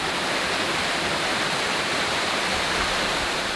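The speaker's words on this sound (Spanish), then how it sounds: "la cascadita" Small cascade pouring into a river pool at La Silampa, a steady broadband rush of falling water close by, continuous and even with no other sounds.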